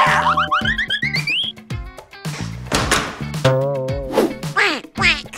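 A duck quacks loudly and repeatedly in close, bright bursts, mixed with springy boing-like effects and a few thuds.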